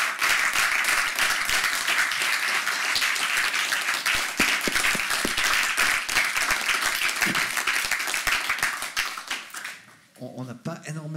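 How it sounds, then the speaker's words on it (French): Sustained audience applause for a speaker at a talk on music and cinema, dense clapping with a few sharper claps, fading out near the end as a voice begins speaking. "vous pouvez l'applaudir, s'il vous plaît."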